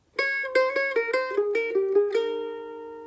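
A quick mandolin lick of about a dozen bright notes played in thirds in a steady rhythm, ending on a sustained ringing chord, close and clear.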